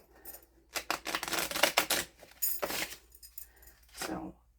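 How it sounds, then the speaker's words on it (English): A deck of cards is shuffled up close, giving several quick riffling bursts of papery flutter and snapping with brief pauses between. "So, let's shuffle these."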